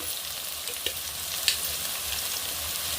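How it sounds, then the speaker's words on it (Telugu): Chopped onions sautéing slowly in a pan, a soft, even background sizzle with a couple of small clicks and taps, fairly quiet and with no talking. "ఒక ఐదు నిమిషాలు దాకా మంచిగా మగ్గించుకోవాలా ఉల్లిపాయ ముక్కలు"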